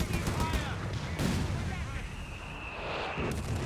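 Artillery in the game Company of Heroes 3 booms in heavy, overlapping blasts and rumbles, dense and loud, with someone talking over the barrage.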